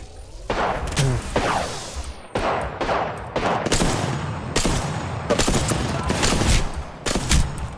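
Gunfire in the Apex Legends video game crackles in loud, rapid bursts with short gaps between volleys, with sharp impacts and rattling automatic fire close by.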